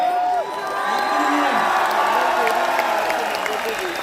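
An audience claps and cheers for Mufti Sahib at a conference, sustained loud applause with whoops and shouts throughout, a voice speaking over the crowd.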